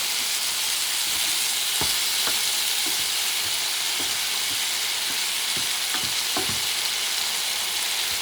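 Tomato sauce for a lamb paella fries in a pan with a dense, constant sizzle, as a utensil scrapes and stirs in scattered soft clicks, close and loud.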